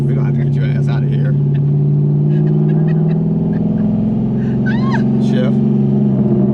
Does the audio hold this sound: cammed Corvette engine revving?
yes